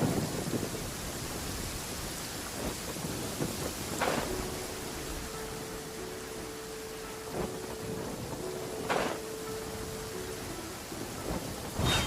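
Steady rainfall in Genshin Impact, a soft continuous hiss punctuated by several sharp thunder cracks and a low sustained tone, with no voices.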